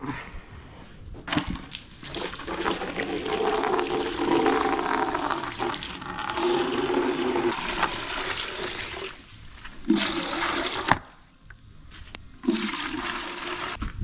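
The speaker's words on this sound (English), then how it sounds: "Then I'll get a fresh bucket of water and top them up." Water gushes and splashes steadily into a bucket on a calf farm for several seconds, with brief pauses and clunks as the flow stops and restarts.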